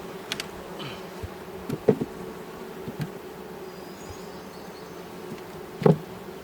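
Carniolan honeybees buzz around an open hive outdoors on a hot day, a steady close drone with individual bees flying past the microphone in louder passes.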